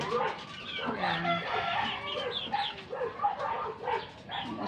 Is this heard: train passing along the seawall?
no